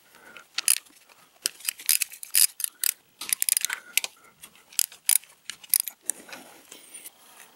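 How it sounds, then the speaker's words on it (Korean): Bolts come off the water pump of a Chevrolet Cruze 1.4 turbo with quick ratchet clicks in short bursts at close range, separated by brief pauses and metallic handling noises. "이제 워터펌프 볼트 제가 알기엔 10개가 있는데요. 그걸 풀도록 하겠습니다."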